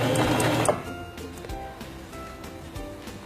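A sewing machine stitching forward a few stitches: a steady, moderately loud mechanical whirr and rattle that eases off after a moment into quieter clicking.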